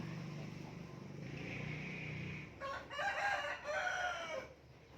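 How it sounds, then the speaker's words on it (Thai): Chickens cluck in the background, then a rooster crows loudly and close by, its call rising and stretching out over a couple of seconds. "จะมีเสียงไก่ข้ามาเยอะเลยนะคะ"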